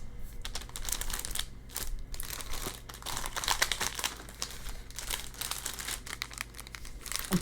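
Crinkly plastic Pokemon booster pack wrappers being torn and crumpled open up close, a steady run of crackling rustles and rips lasting several seconds with no talking.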